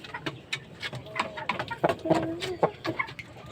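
Young pet chicks being handled and moved into a prepared breeding pen, giving a run of short chirps and clucks scattered through the clip, fairly close, with faint voices underneath.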